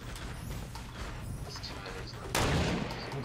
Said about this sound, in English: No, they're sniping at us.